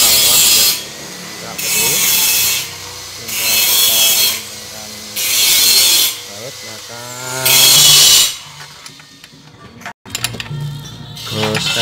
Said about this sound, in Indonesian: Kita kencangkan bautnya ini ya